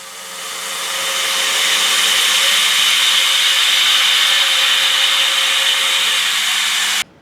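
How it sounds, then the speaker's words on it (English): A small Taig milling machine cuts a metal mounting bracket for an Austin Mini, a loud close steady whine that ramps up over the first second, holds evenly for about six seconds, then stops abruptly. "I think we may have just found the limit as to how hard we can push the little Taig mill, but it did the job just about."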